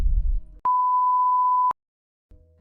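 A mobile phone gives one loud, steady electronic beep lasting about a second, clean and close, with faint low rumbling before and after.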